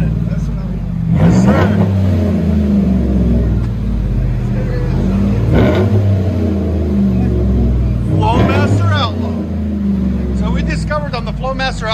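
A 2016 Chevy Silverado LT with a 5.3L V8 and Flowmaster Outlaw dual exhaust idles with a deep, steady rumble, rising in a few revs near the start and middle; people talk over it in places.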